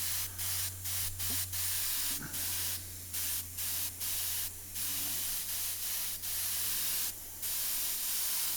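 An airbrush sprays paint while a dragon is painted, giving a series of short broadband hissing bursts with brief gaps between them, over a steady low hum.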